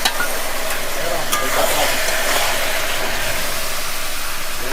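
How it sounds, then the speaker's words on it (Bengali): Jackfruit pieces with chopped tomato and spices sauté in a pan, giving a loud, continuous frying hiss with faint scraping of stirring, steady throughout and close. "যেমন মাংস কষে সেইভাবে এবার এইটাকে কষিয়ে নিতে হবে।"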